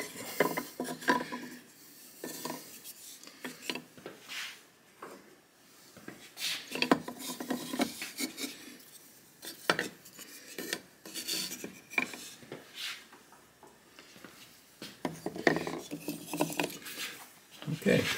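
Ceramic pieces are set into a Skutt 818-3 electric kiln for a bisque firing, giving scattered light scraping, rubbing and clinking sounds at close range, irregular and fairly quiet.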